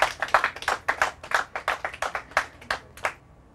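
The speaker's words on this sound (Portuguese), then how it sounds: "Eu acho que todos eles merecem uma salva de palmas" A handful of people clap on a quiz show, in sharp, distinct claps at a brisk, uneven rhythm that stops just before the end.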